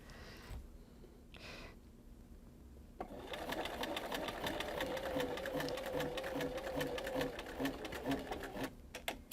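A sewing machine quilts parallel lines with a parallel line foot, starting after a few quiet seconds and then running in a steady, close, rapid mechanical chatter for several seconds before stopping abruptly.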